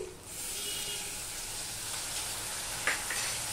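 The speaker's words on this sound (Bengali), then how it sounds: "আমি টক দই নিয়েছি এই চামচের 2 চামচ, এটা ফ্যাটিয়ে নিয়েছি, সেটা আমি দিয়ে দিচ্ছি" Whisked sour yogurt poured into Bhetki fish frying in oil gives a steady, close sizzle and hiss that runs throughout, with one brief clink near the end.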